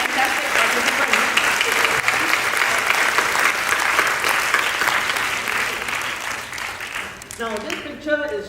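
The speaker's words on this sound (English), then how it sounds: "give a round of applause to Jeremy and the entire team and everyone involved" A church conference audience claps loudly and continuously, the applause holding steady before thinning out near the end as voices come through.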